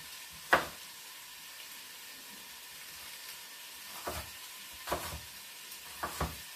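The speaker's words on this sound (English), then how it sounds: "I'll put it on the pan now just to cook it off a little bit" Chopped red apple pieces cook in a pan for a chicken curry, giving a faint, low hiss broken by a few sharp clacks and scrapes of stirring at irregular intervals.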